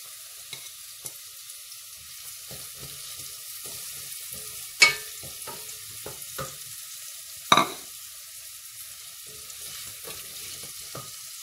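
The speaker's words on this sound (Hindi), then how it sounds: "प्याज डाल के इसको भी ब्राउन करेंगे।" Onions browning in a little oil, a faint, soft sizzle under scattered stirring scrapes and two sharper clanks of a utensil against the pan, nearby and without any talk.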